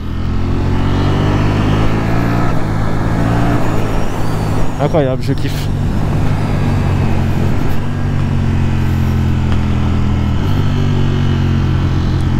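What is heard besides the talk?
motorcycle engine running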